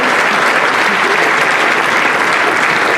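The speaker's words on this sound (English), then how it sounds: "Let's give Mayor Irvin a round of applause as he takes his seat" An audience at a city mayoral inauguration in Aurora gives the newly sworn-in mayor a round of applause as he takes his seat, a loud, continuous wash of many hands clapping that fills the hall without pause.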